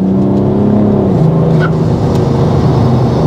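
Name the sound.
BMW 335d mono turbo diesel engine with external wastegate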